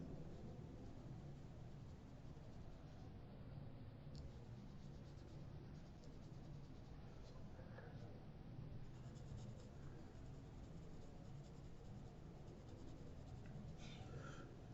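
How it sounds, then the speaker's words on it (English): A mechanical pencil scratches softly over paper as a line is traced again during a lip shading drawing, a faint continuous grainy stroke under steady background hiss. "I'm going to go back with my mechanical pencil and go over that line again"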